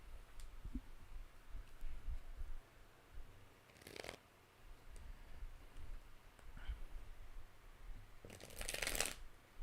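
Tarot cards being shuffled by hand give faint, quiet riffling and soft flicks, with a few brief louder bursts of card noise spaced apart and no talking.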